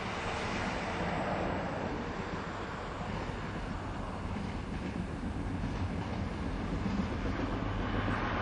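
A steady, broad rumble of a train rolling past on the Lötschberg Railway in the Kander Valley, Switzerland, constant and fairly distant, with no voices.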